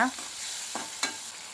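Chopped tomatoes and roasted coconut pieces frying in a pan are stirred, giving a soft sizzle with a few short scraping strokes of the spoon, quiet and close, no talking.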